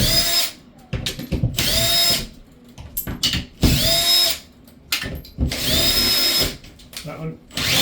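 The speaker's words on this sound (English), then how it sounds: "I'm going to pop these screws out." A power drill backs screws out of a bath surround panel in repeated loud whirring bursts, each about a second long with short pauses between them, close by.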